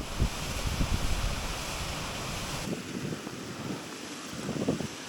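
Wind on a muddy mountain walk near Blencathra in winter, a steady loud rush buffeting the microphone, easing slightly partway through, with no talk.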